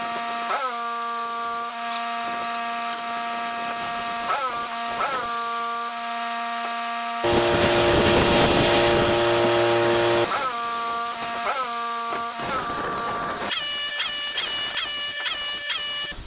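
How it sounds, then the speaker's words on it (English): Compound miter saw motor whining at a steady high pitch, spinning up and down several times, with a louder burst of cutting through composite decking in the middle. "So we broke out the compound miter saw."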